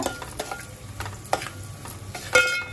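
Onions frying with salt in a pan for prawn gravy, a soft sizzle with intermittent scraping stir strokes, close and fairly quiet, no voices.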